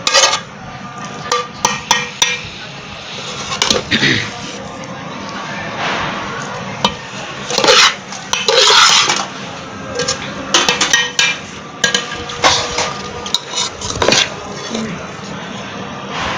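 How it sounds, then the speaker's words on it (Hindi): A thick biryani masala mixture is stirred in a large pot, with repeated wet squelching, scraping and metallic knocks of a spoon against the vessel, close and fairly loud, with voices talking at times. "कौरमे के पतीले में देखिए मसाला है ये अच्छे तरीके से मिक्स हो रहा है।"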